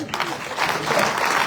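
Audience applause at a panel discussion, a brief wash of crowd clapping mixed with overlapping voices.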